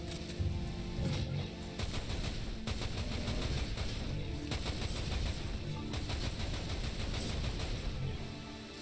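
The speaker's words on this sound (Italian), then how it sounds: "così sparo molto più velocemente con la canna corta" Rapid bursts of short-barrel gunfire in the video game Dirge of Cerberus: Final Fantasy VII, dense, continuous shots stacked over a steady game soundtrack that runs throughout.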